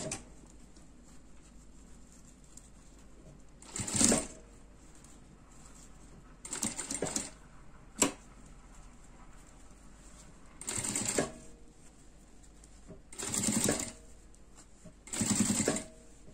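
A sewing machine stitches both edges of a handbag in five short separate bursts, each a brief whirring run with quiet pauses and a small click between them.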